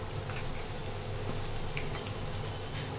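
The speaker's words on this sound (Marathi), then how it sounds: "अर्धा चमचा जिरं घालते अख्खं जिरं चिमूटभर हिंग घालते" Half a spoon of whole cumin seeds and a pinch of asafoetida sizzle in hot oil over medium gas, a close, steady crackling fry with faint pops throughout.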